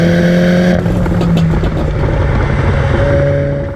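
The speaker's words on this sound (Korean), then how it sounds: "JCW의 경우 엑셀을 업할 때 이렇게 퍽퍽거리는 그 사운드, 우리가 소위 그 팝콘 터지는 사운드라 그러죠." Mini John Cooper Works exhaust revving hard, a loud continuous engine note with a sharp shift near the start and rough crackling pops throughout, close and alone without talk.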